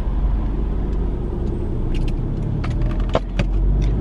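Rush hour traffic on a busy road: a steady engine drone and road noise from inside a car, with a few light clicks and rattles on top.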